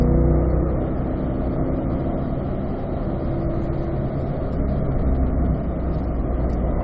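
A Corvette engine roars continuously on a racetrack, loud and close, holding a sustained note with slight swells and no talking.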